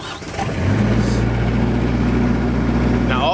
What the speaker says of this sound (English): it's a diesel runner.